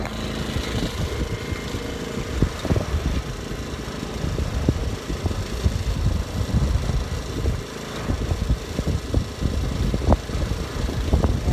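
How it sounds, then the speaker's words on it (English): A steady engine-driven generator on a boat drones continuously, powering refrigeration, with rumbling low tones and scattered knocks and splashes over the top. "Just running some generator to power the refrigeration."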